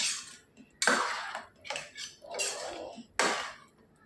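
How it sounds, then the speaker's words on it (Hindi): Cooked chickpeas tipped into a pot of masala for Amritsari chole, landing in a few clattering, sloshing bursts with a scrape of utensil against metal between them, close and fairly loud with no talk. "तो अभी इस स्टेज पे हम अपने छोले डाल देंगे"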